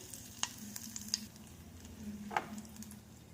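Mustard seeds and curry leaves tempering in ghee, a soft low sizzle with a few sharp pops and spatters, quiet and close.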